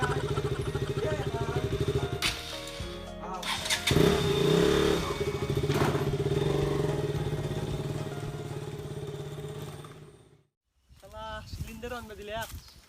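Motorcycle engine running steadily and close, with revving swells and a clattering start, mixed under voices talking, then cutting briefly to silence before talk resumes.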